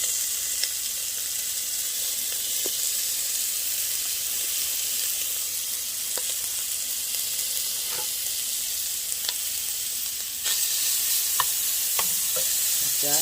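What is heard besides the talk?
meat browning and sizzling in a pan for Zuppa Toscana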